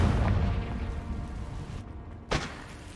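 A blasting spell explodes in a video game, one sharp burst near the end rising out of a dense rumbling background, loud and close.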